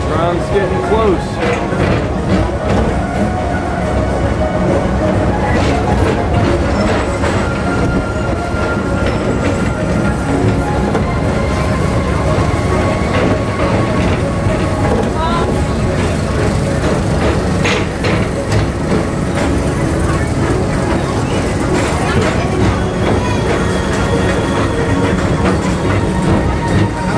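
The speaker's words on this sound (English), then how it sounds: "Tram's getting close." Disney World People Mover tram on the Tomorrowland Transit Authority ride, a continuous loud rolling rumble with clattering and rhythmic clicks throughout, heard from on board under a voice making announcements.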